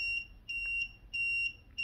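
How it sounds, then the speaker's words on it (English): Beeping from a 5-ton hydraulic dab heat press with 3x5 inch dual heated plates and an LCD controller: about four clear electronic beeps in an even rhythm, close and fairly loud over a low background hum. "You can hear the beeps."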